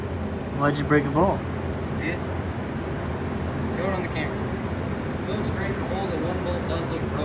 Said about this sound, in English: Sorry about the wind noise. We've got the fan going.